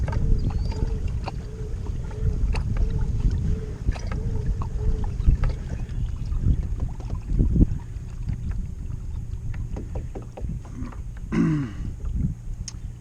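A kayak moves underway on water, with soft paddle splashes and water swishing against the hull, light wind buffeting the microphone and a brief water gurgle near the end, no talking.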